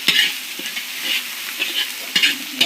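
Chili sizzling in hot oil in a pan for egg curry, a steady bright frying hiss punctuated by a few sharp clinks and scrapes of a spatula stirring, close and fairly loud with no talking.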